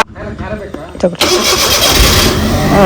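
A vehicle engine cranks and catches at a Kannada Ayudha Puja festival outing, turning over briefly before roaring into a loud, steady running note, with people talking throughout.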